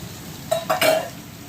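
Long sliced onions are stirred in a hot pan, a brief faint sizzle with two quick scraping clatters of a utensil against the pan, close up and without voices.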